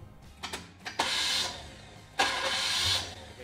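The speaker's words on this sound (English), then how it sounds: "The starter won't turn the engine over" A starter motor struggles against a seized engine on a car, giving two short clunks and then two long, loud grinding whirs separated by a pause, close up.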